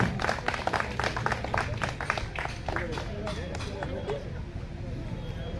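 An audience at a free eye camp event claps in a quick burst of applause that thins out after a few seconds, with voices mixed in.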